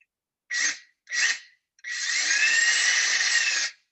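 A power drill bores a pilot hole into a bonsai tree for a thread graft: two short whirring bursts followed by a longer steady high-pitched spin, close and clear with no talking.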